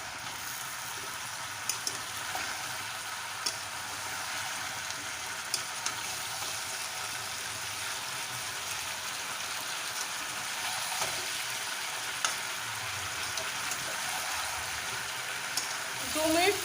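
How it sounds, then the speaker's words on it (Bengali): Drumstick vegetable curry sautéing with ground mustard paste gives a low, steady sizzle with occasional scrapes of stirring across a long stretch, fairly quiet throughout. "সর্ষে বাটা দিয়ে আমি ঠিক 2 মিনিট মতো একটু কষিয়ে নেব।"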